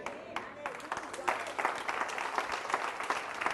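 Church congregation applauding during a Spanish-language service, a rising wash of clapping that swells after a brief start and continues steadily, with some voices mixed in underneath.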